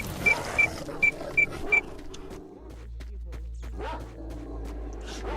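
Pseudo-dogs in the game Stalker, with a few sharp barks and yips rising over a low rumbling background, followed by fainter whimpering and scuffling sounds at mid-distance.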